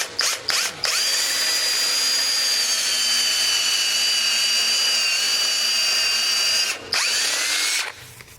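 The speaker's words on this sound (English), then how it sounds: "Drill a little divot in the shaft." A power drill boring a small divot into a metal shaft whines loudly and steadily for several seconds, with short spin-up bursts at the start and a brief stop and restart near the end.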